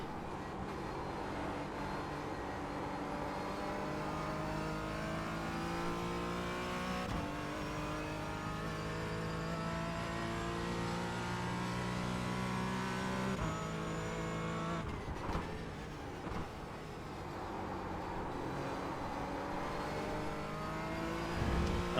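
A Porsche Cayman GT4 engine drones steadily on track at Watkins Glen, holding a sustained mid-range tone with rising and falling revs and shifts, fairly quiet and continuous with no talking.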